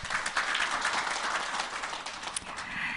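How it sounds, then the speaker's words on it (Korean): A hall audience at a Korean semiconductor design contest award ceremony applauds with soft, continuous clapping that sounds fairly distant and steady. "큰 박수 부탁드립니다"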